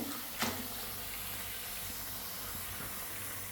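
Tap water runs steadily in a hotel washroom in Sri Lanka while feet are washed, a constant soft hiss lasting throughout with a brief louder splash near the start.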